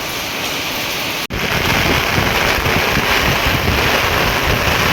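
Heavy rain roars steadily with gusting wind buffeting the microphone, broken by one brief cut about a second in, with no voices.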